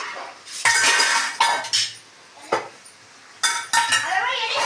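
Metal cooking pot of spicy chicken thokku opened to check the chicken, with several sharp clanks and clinks of lid and utensils in irregular bursts, close and fairly loud, no talking.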